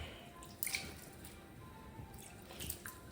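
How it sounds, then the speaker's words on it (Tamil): Water being sprinkled by hand over drying murukku vathal, giving a few faint scattered drips and soft wet pats, close and quiet. "இப்போ இதை திருப்பி போட்டுட்டு இந்த பக்கம் தண்ணி தெளிச்சுக்கணும்."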